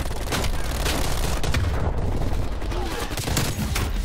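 Gunfire in the video game Black Ops Cold War, with dense, rapid bursts of shots crackling over a busy, loud game soundscape and a continuous battle din.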